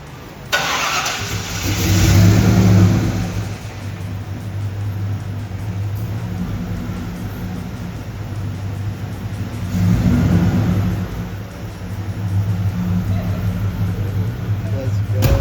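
A 1994 Ford Bronco engine cranks, catches and revs, rising in two loud surges before settling to a steady idle, close by with a high whine above it, and people talk briefly over it.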